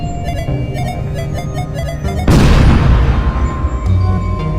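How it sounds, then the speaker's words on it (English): A bomb detonates in the video game Unmechanical, a sudden deep boom with a rumbling tail cutting through a droning, pulsing game soundtrack about halfway in. "I take this bomb down. I'm gonna use it to destroy this thing."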